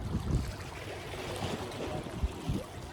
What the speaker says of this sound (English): calming waves lapping over the shores